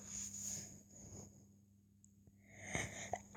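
A single sneeze bursts out sharply near the end after a quiet stretch with faint breathy sounds and a low steady hum.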